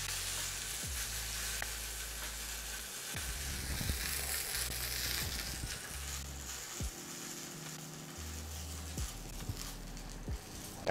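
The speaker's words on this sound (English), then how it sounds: "now I'm going to turn the steak on the side to sear the ends and bring down that fat cap" A big steak searing in a pan, turned on its side so the fat cap renders, giving a continuous bright sizzle broken by occasional low thumps and clatter from the pan.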